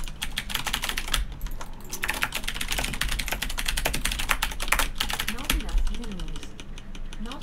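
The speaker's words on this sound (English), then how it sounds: "my keyboard is really loud" Loud, rapid clacking of computer keyboard typing runs continuously, with a voice speaking briefly underneath.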